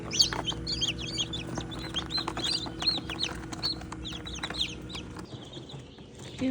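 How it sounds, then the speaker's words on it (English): Newly hatched mixed-breed chicks, including naked necks, peep in a steady chorus of high, overlapping calls close by, continuous throughout with no talking. "14 are out. 14 chicks."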